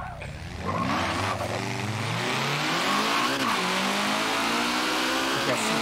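A car engine in the Forza racing game revs and climbs through the gears while driving, loud and continuous with rising and falling pitch, as a voice talks faintly underneath.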